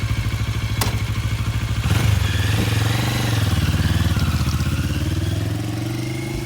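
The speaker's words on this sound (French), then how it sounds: "J'aime bien cette petite moto Morini" A first-generation Moto Morini X-Cape motorcycle engine runs steadily up close with a rapid, throbbing beat, an occasional clank, and its pitch rising slightly toward the end.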